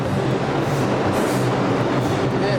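Brooklyn subway train at a station, a loud, steady broadband rumble and rattle of the cars with a faint high squeal, continuous throughout and close.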